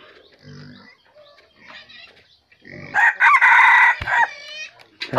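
A young rooster gives soft clucks and grunts, then breaks into a loud, close crow of a few seconds that trails off into a thin, uneven finish.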